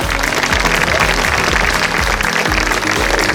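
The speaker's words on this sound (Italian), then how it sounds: "Un applauso." Audience applause at a Miss Città Murata beauty pageant selection evening in Pianiga, a dense, steady wash of clapping from a crowd that holds loud and continuous throughout without any speech.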